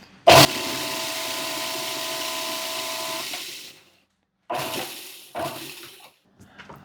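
Graham crackers being ground fine for a cheesecake crust: a short burst, then a loud steady machine whir for about three seconds, then two brief pulses after a pause, no talk.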